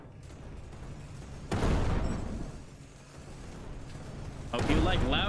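Loud explosions blast through a Dark Gravity space-shooter stage, two heavy bursts with broad rumbling noise rising over a steady background, one around the middle and another near the end.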